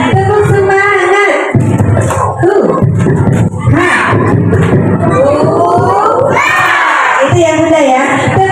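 An audience of parents at a school parenting event in Indonesia loudly chants and claps the tepuk semangat spirit clap together, a dense, sustained crowd of voices and rhythmic clapping filling the hall.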